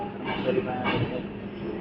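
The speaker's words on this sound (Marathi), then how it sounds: "ट्रेन चालू झाली" A Mumbai suburban train bound for Dadar starts to move, giving a low rumbling roll of wagons and rails under indistinct background chatter for under two seconds.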